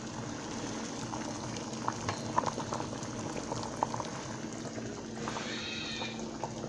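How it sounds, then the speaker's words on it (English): Water rolls at a boil in a pot while a leaking old thermostat from a 1994 Chevy Corsica is held in it, giving a steady, fairly quiet bubbling with small pops and a faint hum, no voices. "So we're going to dip that in the boiling water."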